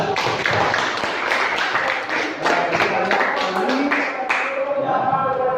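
Applause from a classroom of students, a dense burst of many hands clapping together at close range, with voices mixed in beneath the clapping.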